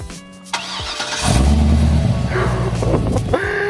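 Car engine started by push button: a short starter whir, then the engine catches with a loud close roar and settles into a steady idle with a slight rev near the end.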